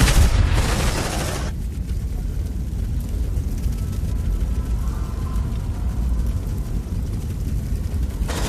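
A grenade detonates in the sci-fi video game Aliens: Dark Descent, giving a sharp, loud blast at the start that quickly settles into a steady low rumble and hiss of game ambience.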